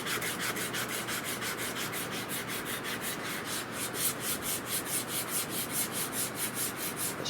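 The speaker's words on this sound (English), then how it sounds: "I know it looks like I'm sanding over the top of this metal" Sandpaper rubs steadily back and forth over a new wooden stock for a Spanish-made Richland Arms 20-gauge shotgun, a continuous rhythmic scratching with quick even strokes, close and alone.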